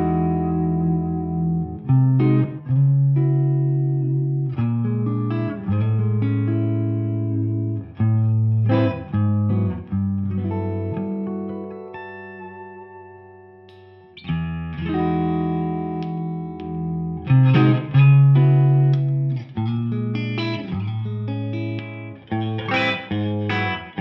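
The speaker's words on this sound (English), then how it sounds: "I'm going to do my best to show you a variety of tones from this amazing guitar." A Fender Custom Shop '59 Jazzmaster Heavy Relic electric guitar plays through a Two-Rock amp and drive pedals with reverb, ringing chords and melodic lines, sustained and slightly distorted, carrying alone for the whole stretch.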